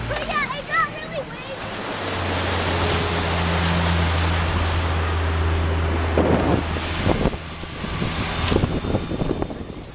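Choppy waves slap and wash against a small boat on a lake in gusty wind, with a steady rumble, heavy wind buffeting the microphone and a few splashy bursts near the end.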